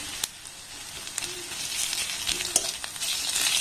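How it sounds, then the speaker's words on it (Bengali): Sliced onions and green chilies sizzle in hot oil in a pan, with a steady close crackling hiss broken by small sharp pops and stirring scrapes, no voices. "এবার পেঁয়াজ আর লঙ্কাটাকে একটু হালকা লাল লাল করে ভেজে নেব"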